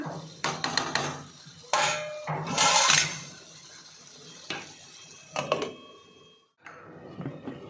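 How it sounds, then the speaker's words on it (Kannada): A lid set onto a cooking pot on a home kitchen stove while drumstick gravy simmers, giving several clattering metallic knocks and scrapes near the microphone, with short pauses between them. "ಈಗ ಇದನ್ನು ಮುಚ್ಚಲ ಮುಚ್ಚಿ ಒಂದು ಐದು ನಿಮಿಷ ಬಿಡೋಣ"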